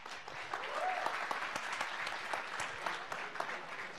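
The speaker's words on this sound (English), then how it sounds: "So please give a round of applause to Gabe Robbins" A lecture audience gives steady, moderately faint applause for a professor introduced before a talk on computing history, sustained clapping throughout with no one speaking over it.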